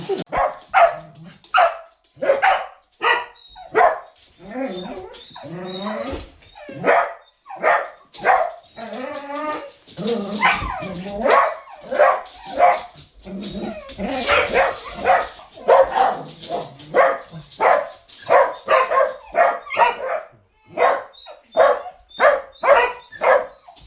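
Several dogs bark, yip and whine in rapid, loud bursts close by, with excited overlapping barks continuing throughout.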